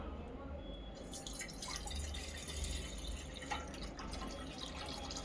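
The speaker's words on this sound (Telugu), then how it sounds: "అందులో 2 గ్లాసుల నీళ్లు పోసుకోవాలి." Two glasses of water pour into a pot on a stove, making a quiet, continuous trickling splash with faint drips, soft and close.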